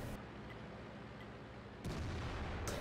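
Artillery fire in World of Tanks on the Mountain Pass map: a steady rumbling battle din carries through, then a heavier low boom swells near the end, with a sharp crack at the very close.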